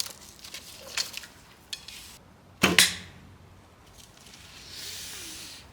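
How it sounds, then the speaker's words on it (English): A recurve field bow (White Feather Gallina) shooting an arrow at a pigeon target, a crisp loud release snap midway with faint scattered clicks before it and a soft hiss afterward, with no talking. "now I'm shooting at a pigeon again using an old arrow"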